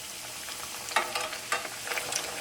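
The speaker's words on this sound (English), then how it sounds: "you should be able to hear that noise, that sizzling noise once again" Breaded chicken pieces frying in hot oil for a homemade chicken sandwich, a steady close sizzle with bursts of crackling and popping spattering on top.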